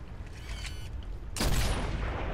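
Gunfire in the Gears of War Ultimate Edition beta match on the Canals/Gridlock map: a sharp, loud broadband shot blast hits partway through over a busy game backdrop, then rings out with a sustained noisy decay.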